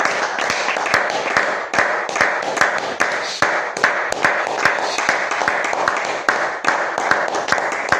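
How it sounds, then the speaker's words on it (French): A church congregation claps in steady rhythmic unison, each clap sharp and distinct, with a faint crowd murmur underneath. "Applaudissons pour le Seigneur Jésus."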